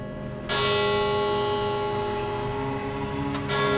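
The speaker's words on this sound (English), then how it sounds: "the church, the bells that ring out every quarter, every half an hour, and every hour" Church bells ringing out loudly, a sustained resonant tolling with layered ringing tones that continue throughout.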